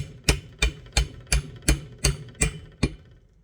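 Metal socket tapping a new seal into the manual steering gearbox of a 1982 Toyota FJ40 Land Cruiser, eight sharp, evenly spaced hammer-like blows close up, each ringing briefly before the next.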